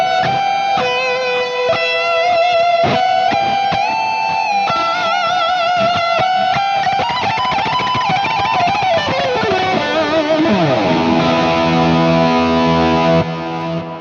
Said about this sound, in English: We'll kick the delay and the reverb back on